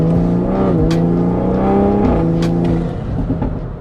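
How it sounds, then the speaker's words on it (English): A Toyota Supra with a ZF transmission pulls hard at half throttle, its engine note rising steadily through the revs with a brief dip at each shift, loud and close throughout before easing off near the end. "Even at like half throttle pulls, this car just feels so good."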